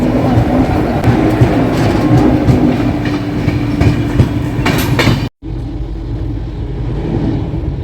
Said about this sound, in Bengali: আর ট্রেন এখন কিষানগঞ্জ থেকে ছাড়লো